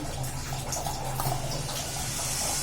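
Water runs in a continuous trickle as it is poured into flour and shredded cabbage for cabbage paratha dough, a steady close splashing stream.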